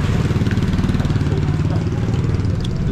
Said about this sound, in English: There's people driving by.